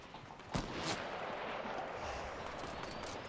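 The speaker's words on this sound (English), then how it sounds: "Who the fuck is shooting me?" Gunfire in the video game Fortnite, two sharp shots close together near the start followed by a steady noisy game background, no speech.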